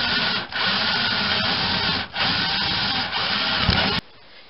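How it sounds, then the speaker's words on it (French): A loud, continuous grinding whir of a hole saw cutting into a wall for an electrical outlet box, close by, with brief dips in pitch before it stops abruptly. "Le trou est fait avec la scie cloche."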